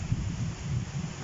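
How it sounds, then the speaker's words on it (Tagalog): Steady low roar of strong wind, gusting and buffeting continuously without pause. "Ang bilis ng hangin."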